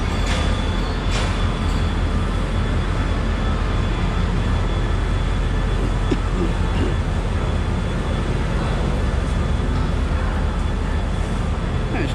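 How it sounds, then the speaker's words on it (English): Steady, loud rumbling and rattling inside the Bangkok to Chiang Mai overnight sleeper train in Thailand as it rolls along, a continuous, unbroken drone with no voices. "it's quite a comfortable train ride actually."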